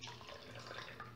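Water poured into a cooking pot for lentil soup, a steady close splashing pour lasting about a second.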